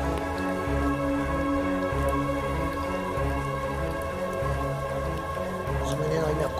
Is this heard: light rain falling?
yes